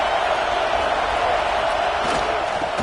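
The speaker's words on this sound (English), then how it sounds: "listen to this crowd noise. This stadium is vibrating." A packed college football stadium roars with a loud, continuous crowd wash that holds steady and close throughout, with no distinct voices standing out.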